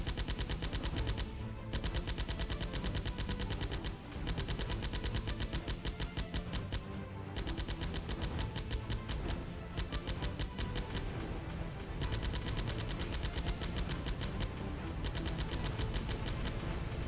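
Rapid automatic gunfire from the VR shooter Cargo Cult, firing in long sustained bursts with brief pauses, loud and close throughout.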